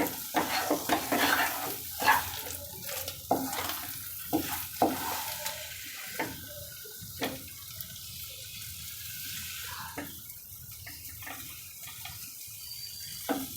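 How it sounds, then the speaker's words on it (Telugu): Wild mango chutney, made from ambarella fruit, is stirred in a pan with a spoon, scraping and sticky squelching strokes at an uneven rhythm over a faint sizzle, growing sparser toward the end. "వేసుకున్నాక బాగా కలిపేసుకొని"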